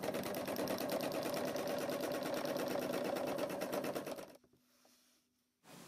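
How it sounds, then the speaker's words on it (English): A sewing machine runs steadily at close range, stitching a cable pattern guided by a ruler. Its rapid, even mechanical chatter lasts about four seconds, stops abruptly, and the motor briefly restarts at the very end. "Sew to complete the cable pattern."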